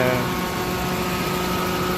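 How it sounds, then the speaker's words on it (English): A car's AC condenser fan runs with the engine idling, a steady, loud, even whir with a constant hum and no change in pitch throughout. "the noise you hear right now is coming from the fan that's in front of the condenser."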